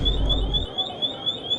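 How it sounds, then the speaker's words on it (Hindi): A store alarm in a large Japanese electronics shop sounds a steady high-pitched electronic tone, loud and close, continuing over a low rumble of background machinery that cuts off partway. "तो वही अभी यहाँ पे अलार्म बज गया था"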